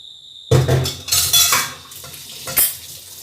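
A metal spatula scrapes and clatters against the bottom of a wok in several close, loud strokes after a brief silence, with faint sizzling between them.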